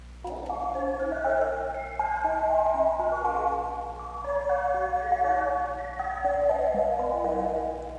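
Serum 2 synth loop mimicking an ice cream truck jingle, built from a granular pluck: bright, tinkling melodic notes repeat in a steady cheerful pattern over a low sustained drone, clear and alone for about eight seconds.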